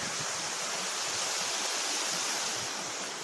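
The waterfall at Force Crag, near the old mine on a family hike, roars as a dense, steady rush of falling water, close and loud, unbroken throughout with no voices.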